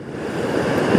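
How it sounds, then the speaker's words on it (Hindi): Rushing river flowing through a mountain valley in Kumrat, a steady broadband water roar that builds slightly toward the end, with no voices over it. "खूबसूरत सा दरिया गुजरता हुआ इस वैली में"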